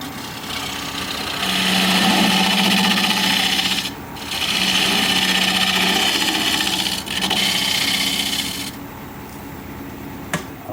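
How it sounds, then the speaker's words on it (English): A swept back gouge cuts a flat side on a spinning wood bowl blank on a lathe, producing a steady close scraping hiss over the motor's low hum, with two brief breaks in the cut. "Let me grab a swept back gouge here so I can create a flat"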